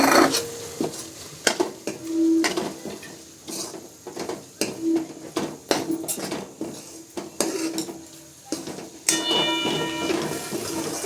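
Coarsely crushed peanuts tipped into a pan of sabudana-style potato and peanut fasting khichdi, giving scattered clattering hits and scraping stirs with metal utensil clinks against the pan, fairly close, with no voices.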